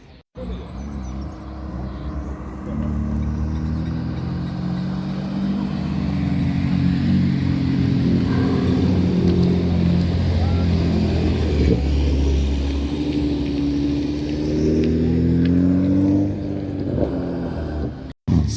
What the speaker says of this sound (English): So just had a nice heap of cars pull up.